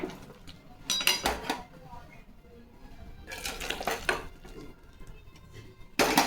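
Egg curry is scraped and poured from a cooking pot into a serving bowl, with a spoon clanking against the metal in two bursts of scraping and knocking, close by, separated by quieter shuffling.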